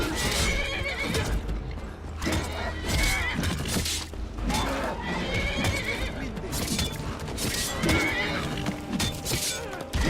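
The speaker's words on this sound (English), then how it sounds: "Why are you going after the horse?" Horse whinnying and neighing in modded Skyrim, with hoof clip-clop, set among dense combat game sound and music; the neighs recur loudly across the whole stretch.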